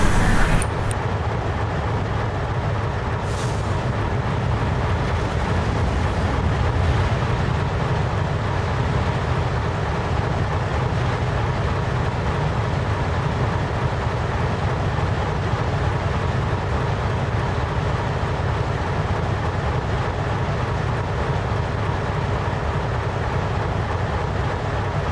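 A train on the Springfield Railroad departing a station bound for the airport, producing a steady, continuous rumble and rolling rail noise that holds close and loud throughout, with no voices.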